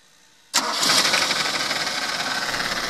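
A car engine, an e2000, starts after its timing belt was replaced: a sudden loud catch after quiet, then a steady, fairly loud idle with a light rhythmic flutter.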